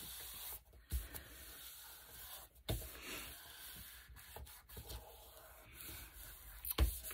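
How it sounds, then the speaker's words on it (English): Paper being burnished down onto a passport-sized card: close, soft scraping and rubbing strokes in an uneven rhythm, with occasional sharper taps and bumps, and no talking. "Burnish that down"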